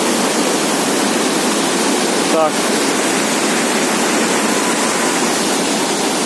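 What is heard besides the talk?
mountain river waterfall in Yaremche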